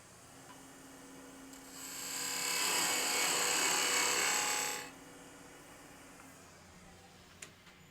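A spindle gouge cuts tapered end grain on a spinning wood lathe, giving one steady, loud hissing cut lasting about three seconds over a low motor hum that continues before and after.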